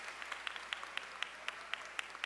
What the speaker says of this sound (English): special guests a big round of applause.